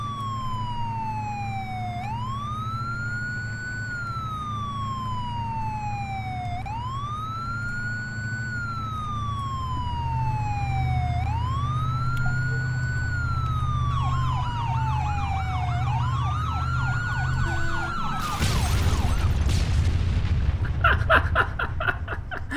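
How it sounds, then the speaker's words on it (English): Emergency vehicle sirens in the ArmA 3 video game, set in Takistan, wail in steady rising and falling sweeps over a low engine-like rumble, joined later by a faster yelp, then a sudden loud crash or explosion near the end. "I heard your sirens and I knew you were gonna be coming out"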